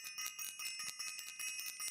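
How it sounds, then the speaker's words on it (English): A small hand bell rung repeatedly in a steady, rapid rhythm, bright metallic tinkling ringing out close and alone with no talking over it. "let me ring the bell,"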